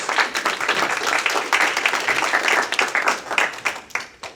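An audience at a venture day panel in a Singapore law office claps for a speaker being welcomed up: dense, close applause that holds steady, then thins into scattered individual claps before fading.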